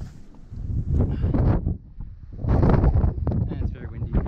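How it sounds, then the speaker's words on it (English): Heavy gusts of wind blast against the microphone on the Mt Scenery peak on Saba island, two long surges roaring and rumbling loudly with a brief lull between them. "Wow, it's windy."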